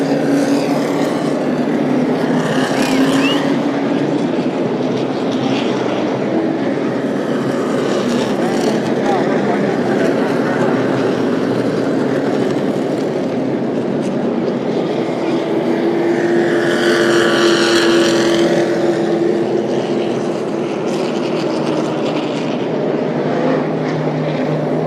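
Late model race cars run a 60-lap feature at Kingsport Speedway during the season opener, engines droning loudly and continuously with the roar swelling as the pack passes, under a steady wash of track noise.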